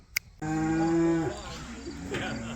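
Cattle on a farm bellow loudly while their calves are held apart for sorting, one long sustained moo with harmonics followed by quieter lowing, and faint insects chirp in the background.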